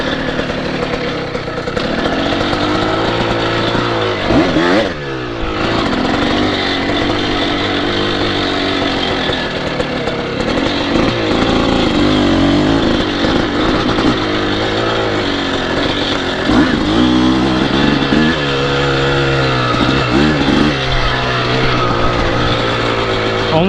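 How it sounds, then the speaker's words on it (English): An offroad dirt bike engine runs steadily while being ridden, its close, loud drone rising and falling with throttle changes and a brief dip near the five-second mark, continuing without pause. "so far the bike's running okay"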